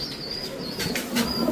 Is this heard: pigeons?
yes